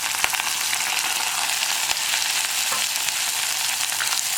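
Chopped onion and garlic fry in a hot pan with a steady, close sizzle, broken by a few faint stirring clicks, with no voices.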